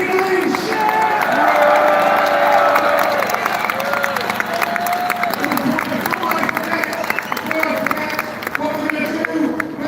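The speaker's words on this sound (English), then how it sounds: "Let a massive cheer for Peter Lynch." A large crowd cheers and applauds loudly and steadily throughout, with whoops and claps filling a hall at a live event before a film screening.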